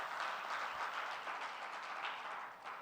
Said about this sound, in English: Louder claps, let's say.